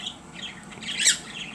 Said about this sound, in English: since we're sitting here watching finches